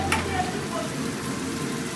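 Potato and cauliflower pieces fry in hot oil at an outdoor picnic cookout, giving a steady close sizzle with a brief sharp burst near the start.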